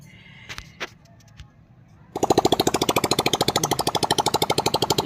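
A Bajaj CT100 motorcycle engine with no silencer fitted starts up after a few faint clicks and quiet background noise. It then runs loud and close with a rapid, even, harsh popping exhaust beat that holds steady to the end.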